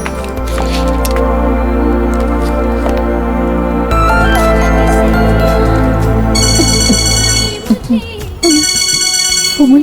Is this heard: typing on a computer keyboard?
no